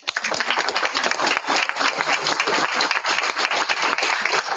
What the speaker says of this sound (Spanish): por favor, un aplauso para todos